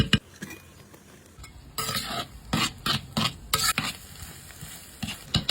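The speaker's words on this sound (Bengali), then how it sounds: "পেঁয়াজ মরিচ সামান্য একটু সটে করে নিয়ে" Onions and chillies sauté in mustard oil in a pan after eggs were fried, heard as bursts of loud sizzling and scraping stirs coming in irregular strokes, with quieter gaps between, close up.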